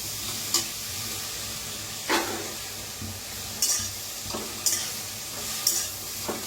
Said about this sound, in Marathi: छान असं पहिलं भाजूया, नंतर मग तेल ओतून भाजायचं